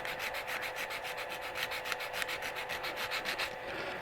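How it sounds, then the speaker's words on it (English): Sandpaper rubs back and forth across a turned wooden magnifying glass held on a stopped lathe, a close, rhythmic scratching of about a dozen quick strokes that stops near the end. "I want to do cross sanding on this thing."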